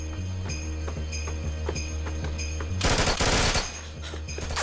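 Gunfire in a Turkish TV drama, several sharp shots crack out over a steady droning score, followed by a loud dense burst of rapid fire before the music returns.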